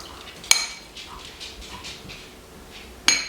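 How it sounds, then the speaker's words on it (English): A spoon stirs partly crystallized honey in a bowl, giving two sharp metallic clinks against the bowl about two and a half seconds apart, with soft quiet scraping between them. "So I'll go ahead and stir this up a little bit since my honey was not completely liquid"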